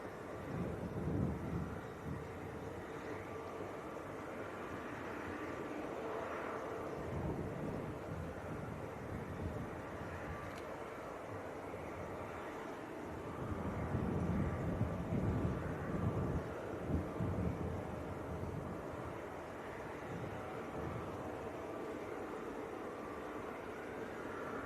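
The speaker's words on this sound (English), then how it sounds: "Okay, Jet 2 to Antalya, just starting the roll." A Jet2 airliner bound for Antalya begins its takeoff roll at Leeds Bradford Airport, a broad, steady roar heard from a distance with wind buffeting the microphone and the engine noise swelling midway.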